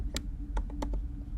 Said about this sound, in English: I'm going to come over here and I'm going to start typing